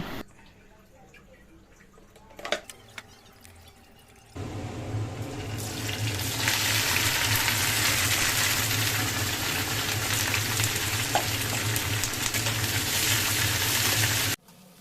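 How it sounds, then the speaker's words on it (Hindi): One-inch pieces of okra dropped into hot mustard oil in a pan, a few quiet clinks first, then a loud, steady hiss of frying that runs without a break and cuts off sharply at the end. "तो यहाँ लिया था थोड़ा तेल मैंने, मस्टर्ड ऑयल, और उसमें मैंने 1 इंच की जो भिंडी काट रखी थी वो मैं यहाँ ऐड कर रही हूँ"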